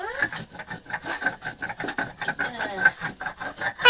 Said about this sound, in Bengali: লঙ্কা বেটে নেবো